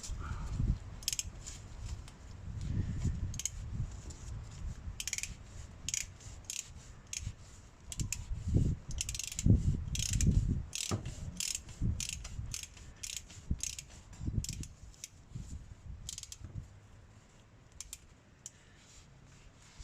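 A ratchet with a 3/8-inch socket extension tightens the differential plug on a Jeep Wrangler, giving off bursts of quick, close clicking with short pauses in between, and there is no talk.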